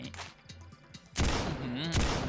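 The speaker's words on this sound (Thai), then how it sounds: "ไปลองปืนช็อตกันกันดีกว่าครับ" Shock gun fire in Roblox Zombie Tycoon erupts after a quiet stretch with a voice, giving a loud, dense blast of noisy discharge that carries on and then surges again in a second burst.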